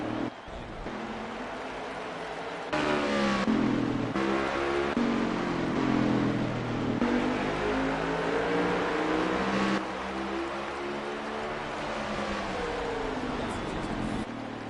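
Race car engines in NASCAR Heat 5 Next Gen cars at Martinsville drone steadily throughout, a continuous layered roar that swells louder midway and then settles, with no talk over it.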